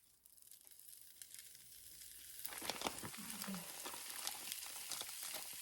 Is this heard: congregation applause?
no